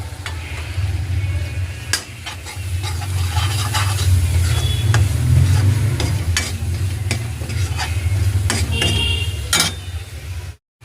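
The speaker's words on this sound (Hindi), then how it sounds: "मसाले भुनना ऐसे ही मैं हींग डाल दूंगी थोड़ी सी इसी टाइम पे।" Spices roasting in a pan with a pinch of asafoetida, a steady sizzle and scraping stir with sharp clinks of a spoon against metal, close and fairly loud.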